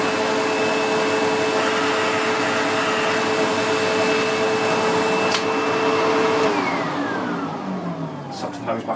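A SEBO X4 Extra upright bagged vacuum cleaner drones loudly and steadily, close by, while its hose retracts. Near the end the pitch glides and shifts as the whine changes and the roar eases slightly.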